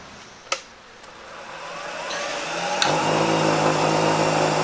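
A wood lathe turns a holiday ornament while a spindle gouge takes a very light cut, giving a faint rising whir with a couple of sharp ticks early on, then a steadier hum to the end.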